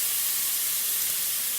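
A thin ribeye steak laid on a hot griddle oiled with olive oil sets off a steady, loud broadband sizzle that holds evenly and alone throughout.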